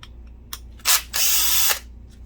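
A power screwdriver backs out screws from the optic module of a BenQ HT1075 DLP projector near the color wheel: one short whirring burst, then a longer steady whir, close up.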